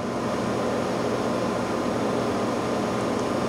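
The spindle of a 12 by 24 inch Okamoto high-precision CNC profile surface grinder runs at a constant whir with a broad, even hum, loud and unchanging and with no voices.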